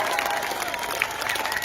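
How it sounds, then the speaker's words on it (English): An outdoor crowd at a protest on the steps of New Zealand's Parliament claps and cheers for farmers, with sustained dense applause, scattered whistles and shouts mixed in throughout. "Put your hand up and clap for the farmers."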